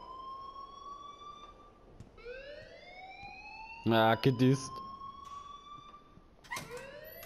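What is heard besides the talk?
alarm ringing at school in Life is Strange video game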